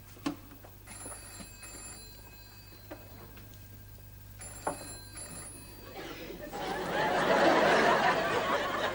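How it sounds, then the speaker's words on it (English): A telephone rings in short repeated bursts with a quiet pause between, followed by rising hiss and faint background noise. "The phone."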